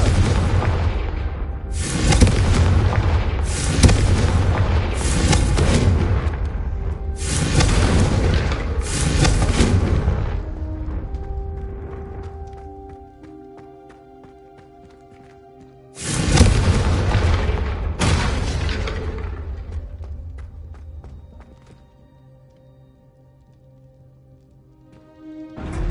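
Confringo fire-spell blasts from a Harry Potter wizarding game set at Hogwarts: a string of loud, booming explosions in quick succession, then a ringing decay, followed by another heavy blast with rumbling tail.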